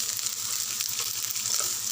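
Cashews, ginger, garlic and curry leaves fry in a pan for a paneer masala curry, giving a steady, close, dense sizzle that runs unbroken for two seconds with no voices.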